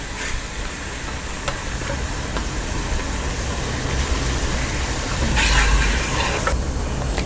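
Potato nuggets coated in bread crumbs fry in hot oil, giving a steady broadband sizzle that holds for the whole stretch and swells slightly near the end, close and moderately loud, with no talking.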